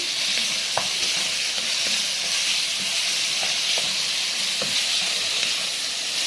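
Chicken livers and gizzards, washed and cut into pieces, sizzle steadily in a hot pan, a dense continuous hiss with occasional sharper pops and spatters, close and alone with no talking.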